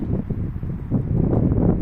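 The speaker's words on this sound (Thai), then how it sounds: "ลมแห้งคักอีหลีเด้ค่ะพุ่นน่ะยอดหญ้าปิวเบิ่นๆอยู่พุ่น" Dry wind gusts across an outdoor field of tall grass, a steady rumbling rush with buffeting on the microphone, fairly loud and continuous with no voices.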